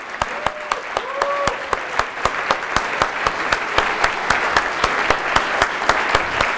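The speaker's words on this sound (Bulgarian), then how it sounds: "Аплодисменти!" At the closing of a QA conference, the crowd applauds the 2018 QA of the year with rhythmic clapping in unison, sharp regular beats throughout, plus a few brief voices calling out over it.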